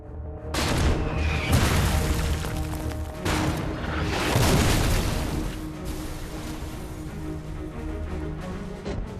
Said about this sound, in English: They position a 105mm howitzer armed with white phosphorus shells, just 20 meters from the gate.